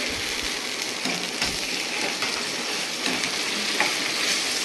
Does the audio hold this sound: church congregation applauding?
no